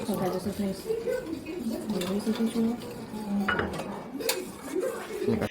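A spoon scrapes and clinks against a pan of milk in steady stirring strokes, close by, with a voice talking over much of it.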